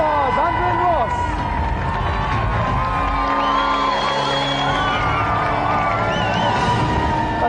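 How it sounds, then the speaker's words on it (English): A television studio audience at a 1994 video games quiz show whoops and cheers over lively music, with some clapping and crowd noise mixed in throughout. "let's have another round of applause."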